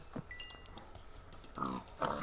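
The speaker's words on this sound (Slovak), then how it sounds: "Juj, koľko prasiatok." Pigs in a video game grunt and oink in a few short bursts over a low game background, with two closer oinks near the end.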